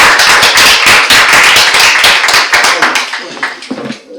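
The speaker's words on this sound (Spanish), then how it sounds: "damos un aplauso de bienvenida a Miguel" A small audience at a talk gives welcoming applause, close and loud, with distinct individual claps that thin out and fade toward the end as a voice briefly comes in.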